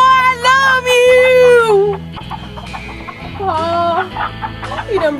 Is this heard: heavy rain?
no